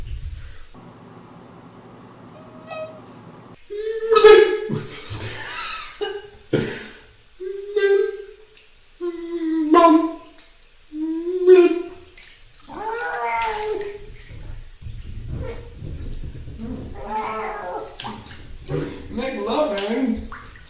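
A voice imitates a cat calling for help with its mouth half underwater, giving a series of gurgling, bubbly meows and yowls separated by short pauses, with splashy bathwater sounds in a quiet room.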